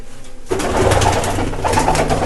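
Pigeons in a coop coo loudly and close, deep rolling calls overlapping in a steady burst after a brief quieter moment.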